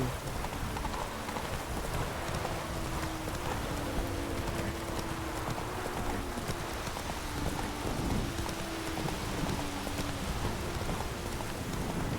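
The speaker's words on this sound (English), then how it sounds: "Mưa gió dữ." Heavy rain and wind in The Witcher 3 pour as a loud, dense, constant hiss, with a horse's hooves clopping steadily beneath and no talk.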